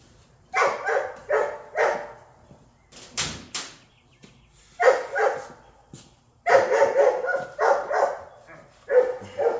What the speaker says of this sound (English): I hope dog barking don't bother you